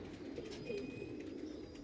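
Racing pigeons tagged on both legs coo softly in a loft in Mirpur, a faint, low murmuring that continues through the brief moment without any voices.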